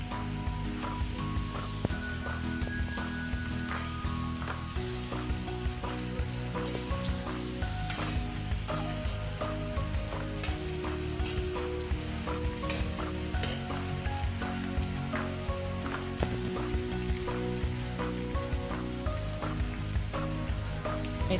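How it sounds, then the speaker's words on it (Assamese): Potatoes fry steadily in a pan for an egg curry, a continuous close crackling sizzle with frequent small pops, no voices. "আলুখিনি এনেকৈ দি অলপ দেৰি ভাজি থাকিম"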